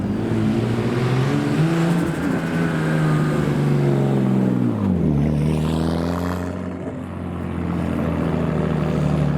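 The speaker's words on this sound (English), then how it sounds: "an RB20 powered Nissan S13 wide body. This sounds great." Nissan S13 wide-body car with an RB20 engine swap driving past while leaving a JDM car show, its loud droning exhaust steady and close, the pitch dipping midway as it shifts before resuming a strong, continuous roar.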